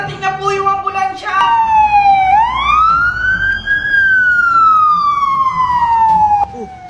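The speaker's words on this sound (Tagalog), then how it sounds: "Paparating na po yung ambulansya!" An ambulance siren wails close by in long rising and falling sweeps, loud and clear, after a short burst of faster warbling at the start.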